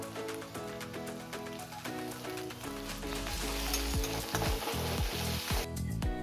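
Garlic and ginger paste fries in hot oil, giving a loud, continuous sizzle with crackling pops that builds steadily and carries no talk.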